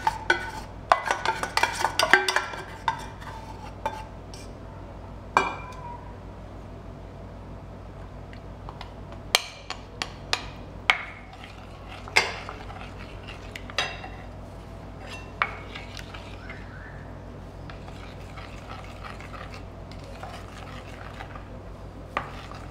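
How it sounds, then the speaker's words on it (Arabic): Chocolate madeleine batter being mixed by hand in a bowl, a utensil scraping and clinking against the sides in scattered light taps, with a busier burst of clinks at the start, all fairly quiet with no talking. "نخلط الثلاث مقادير مع بعضهم."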